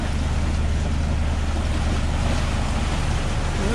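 Ocean waves wash against a sailboat running downwind offshore in the Atlantic, heard as a constant loud roar of water and wind with no pauses.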